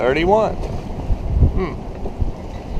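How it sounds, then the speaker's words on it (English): A strong wind gust roars across the microphone on a Tartan 37 sailboat at night, around 30 knots, with loud buffeting over water and a voice speaking briefly. "Good gust."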